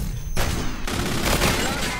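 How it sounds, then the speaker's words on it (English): Heavy gunfire in a capture-the-flag video game match: dense, continuous bursts of shots and blasts fill the whole stretch at steady loudness, with a sharp surge in intensity partway through. "I'm under heavy fire right now."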